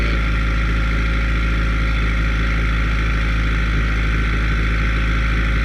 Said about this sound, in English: that's the really loud cold start